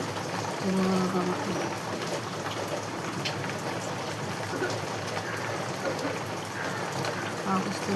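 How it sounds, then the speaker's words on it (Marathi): Heavy monsoon rain falls steadily in a dense continuous patter, fairly close, with someone talking softly over it in a kitchen. "पावसाचा आवाज पण येत असेल"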